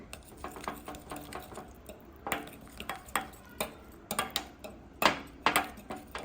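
A spoon stirs and mixes red chilli powder into raw chicken in a bowl for tandoori chicken, giving a quiet, uneven run of scraping clinks and soft wet pats, close and without talk.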